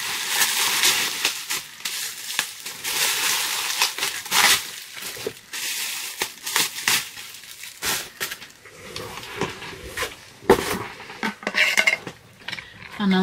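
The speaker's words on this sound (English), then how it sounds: "an Aladdin mason jar cup glass with a straw" An Aladdin glass mason jar cup with a straw is handled close up, giving clinking glassy knocks, rattles and crinkling in an irregular series of taps and scrapes.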